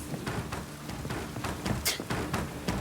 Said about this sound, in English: Must be mad running around in this rain.